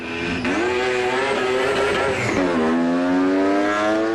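A modified performance car with custom adjustable suspension roars loudly past on a track, engine pitch dipping twice as it shifts gears and climbing again, close and dominant.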